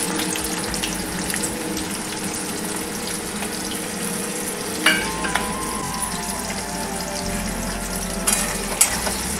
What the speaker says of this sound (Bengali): পেঁয়াজটাকে ভালো করে একটু ভেজে নেব